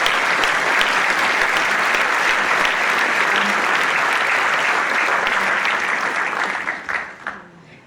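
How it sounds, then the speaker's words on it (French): A crowd at a film festival opening ceremony applauds loudly and continuously, the clapping holding steady for several seconds before thinning out and fading toward the end. "Vous pouvez les applaudir très fort."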